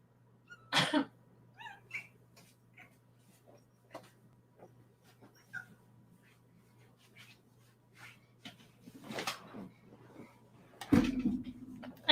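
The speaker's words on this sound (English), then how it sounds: "I might get the kitty cat." A house cat gives a few faint, brief meows and small sounds at scattered moments in a quiet indoor room, with a louder burst near the end.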